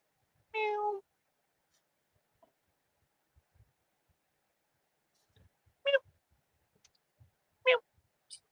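A small cat meows three times: one drawn-out meow, then two shorter ones spaced several seconds apart, close and clear against near silence.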